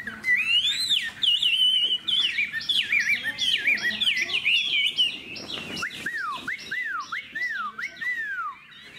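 A Chinese hwamei songbird with a fanned tail sings continuously and loudly up close, pouring out varied whistled phrases, rising and falling slurs and rapid repeated notes with no voices over it.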